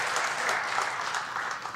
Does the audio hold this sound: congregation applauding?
yes